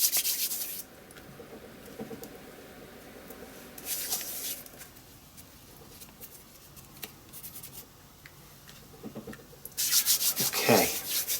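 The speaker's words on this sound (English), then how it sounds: "A little bit of glue's come out of the back there, that's okay, don't mind that. I'll just rub it off with my finger." Dry rubbing and scraping of a fingertip over a handmade vintage collage Christmas card to clear away stray glue, in short close bursts with quiet pauses between them and a louder rub at the end.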